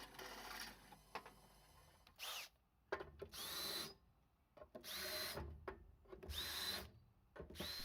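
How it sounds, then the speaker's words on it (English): A power drill bores holes in a steel equipment deck to mount a bigger pump, in several loud whining bursts of a second or so each, separated by quiet pauses. "A new set of holes was also drilled to hold the bigger pump in place."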